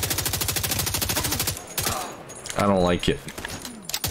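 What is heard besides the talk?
gunfire in The Division 2 video game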